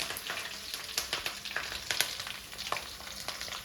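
Ginger frying in hot oil for a homemade fish pickle, a steady crackling sizzle with scattered sharp pops running throughout, close and moderately loud with no talking.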